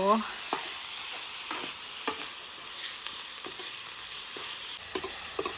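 Frogs stir-fried in a pan over high heat give a continuous close sizzle, broken by regular spatula scrapes and clacks against the pan.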